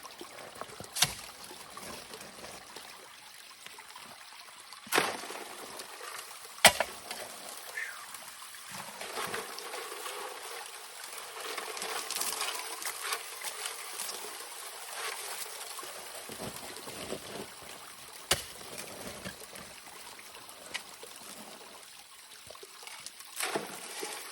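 Water running and trickling from a tank during gold prospecting outdoors, a steady moderate flow with splashy dribbling throughout and occasional sharp knocks and clatters of equipment, no talking.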